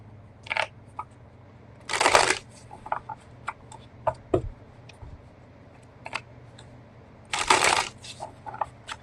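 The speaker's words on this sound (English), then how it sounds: "Get these shuffled up and move forward." A deck of playing cards being shuffled at a table, two bursts of riffling about five seconds apart with scattered card taps and clicks between them, close and clear with no talking.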